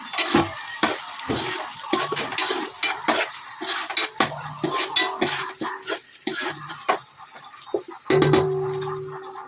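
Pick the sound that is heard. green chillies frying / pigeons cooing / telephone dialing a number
green chillies frying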